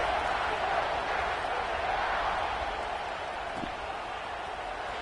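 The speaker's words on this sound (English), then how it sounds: "this crowd is feeling themselves after that last drive" Steady broad roar of a college football stadium crowd still cheering after a touchdown drive, a far-off, unbroken wash of noise that eases slightly toward the end.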